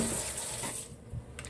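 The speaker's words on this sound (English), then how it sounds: "put the box in the sink with some warm water, and we just want to swish a little bit of it around" Warm water is swished around inside a plastic caterpillar cage box in a sink, a short burst of sloshing and running water close by that fades quickly, with no talk.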